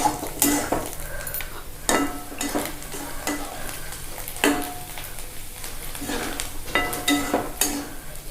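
Green chilli chutney with dry fish fries gently, a soft sizzle underneath frequent metallic scrapes and clanks of a spoon stirring in the pan.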